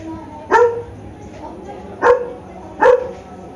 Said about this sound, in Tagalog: Yeah, enjoy nyo lang yung tahol.